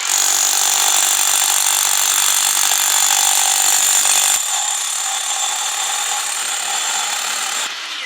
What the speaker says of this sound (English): We'll go ahead and drill these down.